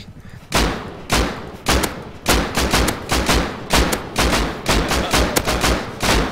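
Loud, close bursts of gunfire in the survival video game Rust aimed at an attack helicopter, arriving as a dozen rapid, evenly paced shots with no voices over them.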